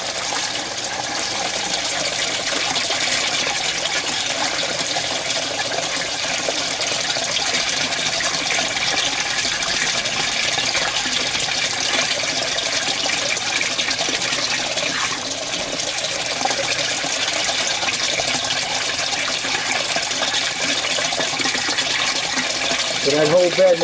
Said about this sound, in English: when this thing fills up and the water starts going in that siphon, that's going to start gushing